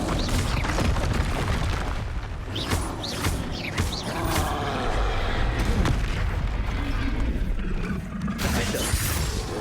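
Spell blasts from Hogwarts Legacy, including fiery Confringo explosions, burst repeatedly in a dense, loud barrage of booms, cracks and shattering impacts with mechanical clatter, continuous throughout with no gaps.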